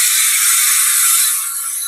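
Bicycle freewheel hub ratchet buzzes in a rapid continuous clicking whir as the wheel coasts, bright and close, slowly thinning before cutting off.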